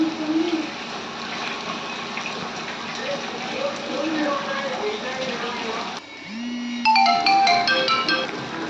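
A phone ringtone cuts in after a steady rushing wash of sizzling or running water in a home kitchen, playing a bright repeating melodic pattern close and loud.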